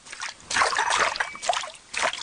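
Water splashes by a river as someone plunges in: a few broad, sloshing bursts of spray and dribble, close and fairly loud, with short gaps between them.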